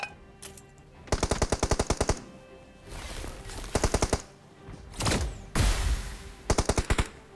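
Bursts of rapid automatic gunfire sound in a battle royale mobile game, several short rattling volleys separated by brief pauses with some rumbling effects between them.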